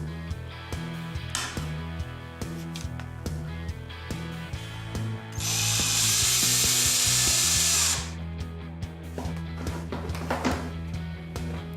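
A cordless drill driver whirs in a loud sustained burst of a few seconds, driving screws while assembling a PXC 18V grass trimmer, with shorter tool buzzes and handling clatter before and after.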